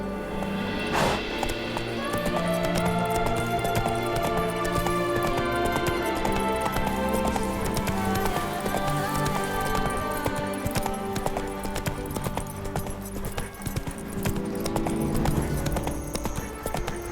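Roach the horse gallops in The Witcher 3, a continuous rhythmic run of hoofbeats, close and steady, over layered game music and ambience.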